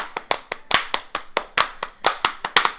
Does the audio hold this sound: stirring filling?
no